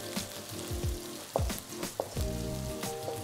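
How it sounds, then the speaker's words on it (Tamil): Onions sauté in a hot oiled pan with a constant sizzle, broken by a few sharp spatula scrapes and clinks, over a bed of background music. "ஸோ வெங்காயம் நல்லா வதங்கி வந்துட்டுருக்கு."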